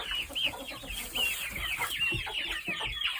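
Chickens cluck and chirp in a coop, a busy overlapping chatter of short, repeated calls close by, with no talking.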